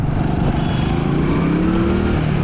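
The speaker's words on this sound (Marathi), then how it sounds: "रोड क्रॉस करायचा आहे पण लय फास्ट गाड्या येतात" Continuous roar of fast vehicles rushing past close by on a highway, loud and steady with rising engine tones.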